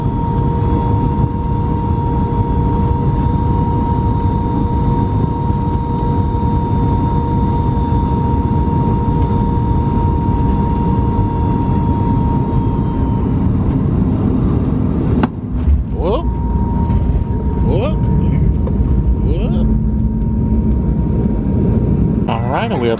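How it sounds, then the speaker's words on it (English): Steady drone of a passenger airplane cabin descending to land near houses, a continuous loud engine hum with a sustained tonal whine, shifting and rumbling near the end as the approach continues. "I think we're coming in for our landing."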